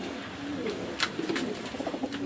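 Pet pigeons nesting with eggs coo nearby in soft, low, rolling calls that repeat throughout the short stretch.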